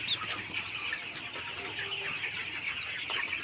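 A flock of sick chickens with swollen heads, suffering from a cold, clucks in a busy, overlapping chorus from many birds close by, steady throughout with scattered sharper calls.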